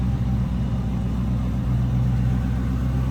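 A 1969 Ford Torino GT with a 351 Windsor V8 and mild cam idles smoothly, a close, steady low burble with an even rhythmic lope and no talking over it.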